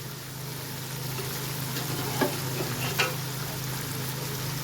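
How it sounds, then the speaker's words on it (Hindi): Beef trotters going into a hot masala that has released its oil, a constant sizzle with two short knocks or clinks partway through, no voices. "ये देखिए, अब हम इसमें डालेंगे अपने पाए"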